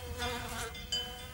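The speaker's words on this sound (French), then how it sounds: "les guêpes trouvent l'énergie dont elles ont besoin en butinant les fleurs." Wasps foraging on flowers give off a faint, steady buzzing hum that drifts slightly in pitch, with no voices present.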